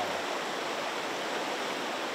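A big river flows with a steady, even rushing hiss, faint and continuous without breaks or voices.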